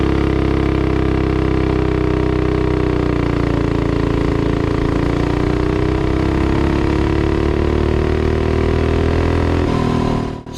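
Minibike with a Predator 212 engine, upgraded with a Monster Moto Stage 1 kit, accelerating hard in a speed test, its loud close engine note climbing steadily in pitch for about ten seconds before cutting off abruptly.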